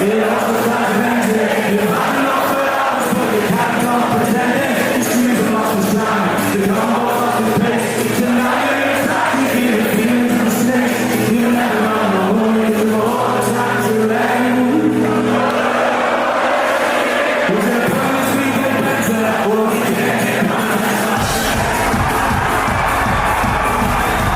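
A Glasgow crowd roars and sings along loudly and continuously while a song plays, with chanting voices massed over the music and a dense, near, unbroken wall of sound.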